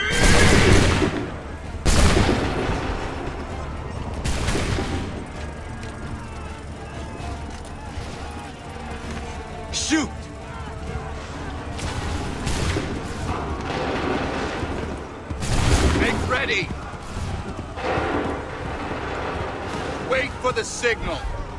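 Repeated musket volleys crack through a Revolutionary-era battle in Assassin's Creed III, bursts of massed gunfire recurring every few seconds over a constant din, with shouted orders in between.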